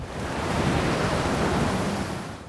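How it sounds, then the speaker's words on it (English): Hurricane-force St Jude storm winds and crashing waves on the UK south coast make a loud, continuous roar of wind and surf, with heavy buffeting and no voices. "It's the south coast which has taken the brunt of St Jude's destructive winds, blowing with hurricane force from Wales to Essex."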